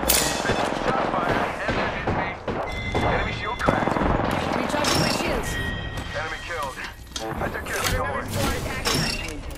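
Gunfire in the video game Apex Legends, repeated loud bursts of automatic shots and impacts over nearly ten seconds, mixed with game voices and effects.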